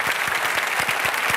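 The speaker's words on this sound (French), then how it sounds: "Je vous demande d'applaudir, bien sûr, Michel Firmin." A studio audience on a live French comedy sketch show breaks into a brief burst of brisk, fairly loud applause.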